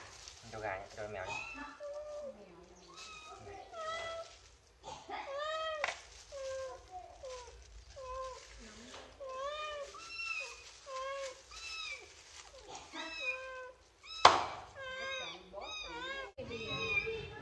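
A cat meows repeatedly at an outdoor spot where chicken is being clay-roasted in the wild, with varied, close mews spread across the stretch and occasional voices nearby.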